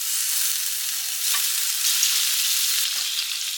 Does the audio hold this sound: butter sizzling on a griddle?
yes